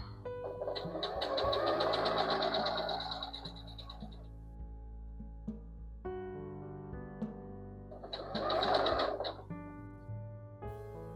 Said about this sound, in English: Just continue to sew.